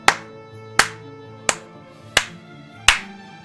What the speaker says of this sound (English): Let's applaud Falcon in his lesson learning